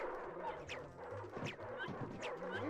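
Dogs bark and yip in the PS2 video game Ed, Edd 'n Eddy: The Mis-Edventures, a few faint, short barks repeating over low game background noise.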